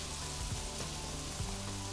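Sausage sizzles in a pan with sauteed garlic and oil, a quiet, even frying hiss with a couple of soft low bumps as it settles.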